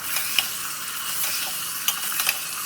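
Potatoes sautéing with salt in a pan over a low-to-medium gas flame, a soft continuous sizzle broken by sharp scrapes and clicks as a spoon stirs them, close by, no talking.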